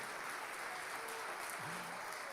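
A church congregation applauds in the name of Jesus Christ during a sermon, a steady, quiet wash of clapping throughout with a faint voice rising briefly near the end.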